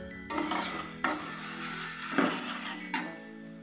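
Spice masala for Bengali mutton liver kosha stirred and fried in a pan: a metal spoon scrapes and clinks against the pan in four distinct strokes, a light sizzle running beneath, with no talking.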